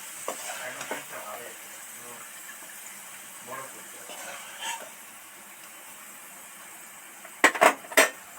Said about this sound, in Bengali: পেঁয়াজ তো সব সব করে ভাজা হয়ে গেছে